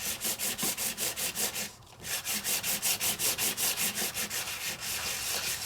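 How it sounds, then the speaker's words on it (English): A sanding block rubs lightly back and forth over a craft surface in a steady rhythm of about five strokes per second, close and clear, with one brief pause before resuming. "Let's grab a sanding block and gently, let's see what we get."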